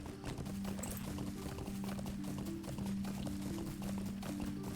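Horse hooves clip-clop at a steady trot in The Lord of the Rings Online, a regular rhythm of hoof taps over a droning game music bed, with no talking.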